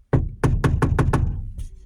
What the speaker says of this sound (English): Rubber mallet, just use a rubber mallet.